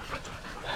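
Hunting dogs pant rapidly and heavily close by after catching a rainforest hog, a quick breathy rhythm with faint whimpers and no talking.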